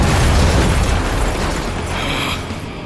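Ship cannons fire in a loud, booming blast that fills the span and slowly rolls off, like a heavy explosion with no voices over it.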